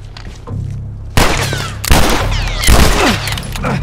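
Gunfire in The Last of Us Remastered, with loud, close shots arriving in several sharp bursts among a dense, noisy combat background.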